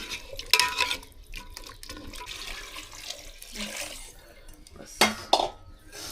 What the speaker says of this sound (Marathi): तर आता गरम पाणी ॲड करते. गरम पाणी टाकल्यावरती चिकन जे आहे ना ते लवकर शिजतं.